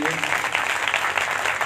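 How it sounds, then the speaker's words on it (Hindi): Audience applause at a devotional katha gathering in Delhi: a dense, steady wash of many hands clapping together, fairly loud and continuous for the whole short burst, with voices mixed in underneath. "एक बार आप खुल के दिल से तालियां बता दीजिए इनके लिए"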